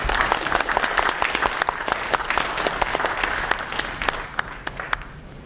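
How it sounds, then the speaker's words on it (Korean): Audience at a securities forum opening ceremony applauding to welcome a speaker, dense continuous clapping from a sizeable crowd, loud and steady before tapering slightly at the end. "큰 박수로 맞이해 주시기 바랍니다."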